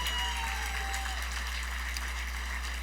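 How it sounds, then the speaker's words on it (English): Applause from the crowd at a charity gala honoring a long-time supporter, a faint, distant wash of clapping over a steady low hum in a large hall. "big round of applause for Bob"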